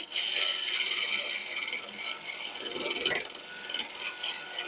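A woodturning tool cuts into spinning wood on a lathe, a close, hissing, rasping scrape that starts loud, eases off midway, surges again briefly and then continues at a steady level.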